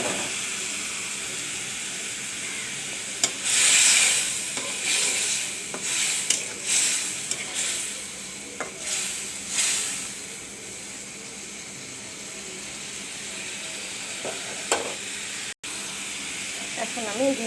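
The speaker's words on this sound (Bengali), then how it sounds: "তারপর এখানে আমি কাঁচা টমেটো ও পাকা টমেটোগুলো দিয়ে দিচ্ছি।" Raw and ripe tomatoes cooking in a pan for a hilsa fish curry, giving a low steady steamy hiss broken by a few brief louder stirring and scraping bursts, close by with no talk.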